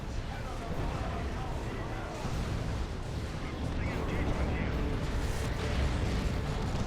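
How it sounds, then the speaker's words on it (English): Artillery barrage in Dawn of War II: Retribution, an Imperial Guard match: a continuous rumbling roar of distant shelling and explosions, steady and dense, with a person talking over it. "That's a barrage."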